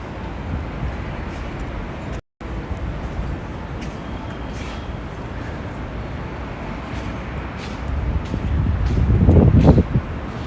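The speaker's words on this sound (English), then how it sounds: "It's windy." Steady broadband outdoor rumble of wind at Rockefeller Center in New York City, with low gusty buffeting swelling louder near the end.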